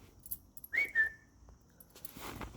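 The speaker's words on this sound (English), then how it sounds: "I just kind of interrupted that leash chewing with a whistle." A person gives a short two-note whistle to interrupt a dog chewing on its leash, clear and fairly close in an otherwise quiet setting.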